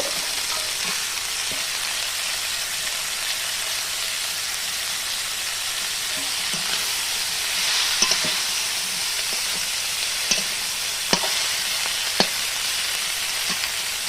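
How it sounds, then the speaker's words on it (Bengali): Red amaranth greens cook in a pan of oil with a steady, close sizzle and a few sharp clicks and taps of a utensil scattered through it, and no voices. "এবার আমি লাল শাকটা দিয়ে দিচ্ছি।"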